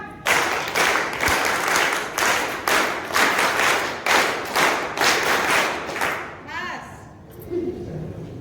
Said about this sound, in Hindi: विशेष ताली प्रारंभ।